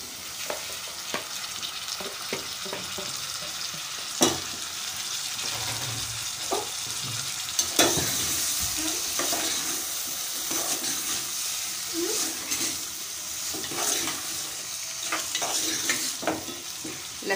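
Meat fries in a pot with garlic, ginger and tomato for aloo gosht, giving a steady close sizzle broken by repeated scraping and clinking stirs, with no talk.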